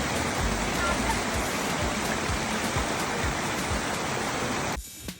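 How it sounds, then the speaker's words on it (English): Cold spring water pours and splashes steadily at Pinsal Falls, a waterfall in Abra, Philippines, a loud, continuous broadband rush up close that cuts off abruptly near the end. "Cold spring water just splashing and relaxing your body."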